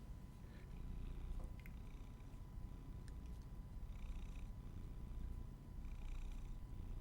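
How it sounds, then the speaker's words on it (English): A cat purrs close by, a low continuous rumbling purr with steady rhythmic pulses, soft and intimate, with a faint electrical hum and small clicks in the background. "I hope you can hear him. He's purring away."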